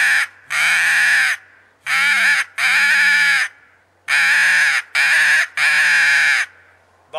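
A human voice imitates a crow's caw with a gurgling tone from deep in the belly, several loud, close, drawn-out calls repeated in a broken rhythm with short gaps between them.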